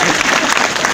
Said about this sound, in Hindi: बता दो फोटोग्राफर के लिए ताली।